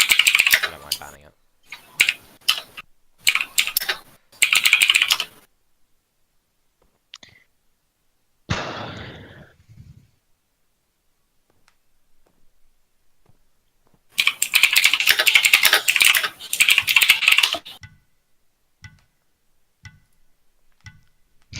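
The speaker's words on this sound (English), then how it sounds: "So loud as keyboard you have" A loud computer keyboard clatters in fast, close typing bursts, pausing between runs and resuming in a long dense stretch, with a few isolated key clicks and some background chatter.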